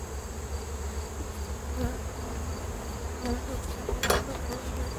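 Honey bees buzzing steadily around an open beehive during hive inspection, a dense continuous drone close by, with a few brief sharper sounds and no talk.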